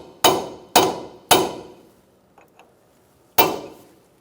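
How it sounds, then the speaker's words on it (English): Four sharp, loud metallic hammer strikes from a sledgehammer driving a cold chisel to peen a nut during a front strut boot and bumper replacement on a 2004-2009 Mazda 3, spaced irregularly with a long pause before the last, plus a couple of faint clicks. "sure you peen your nut using a cold chisel and a sledgehammer."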